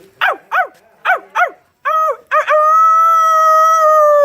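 A person imitating a dog gives four short barks, then trails into a long, sustained howl-like tone like a wolf, all close and loud.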